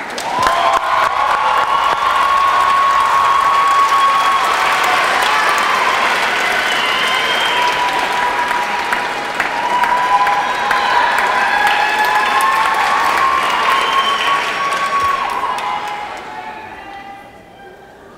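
Sustained applause from a crowd at a poetry event, with cheers and whoops mixed in, loud and steady before tapering off at the end.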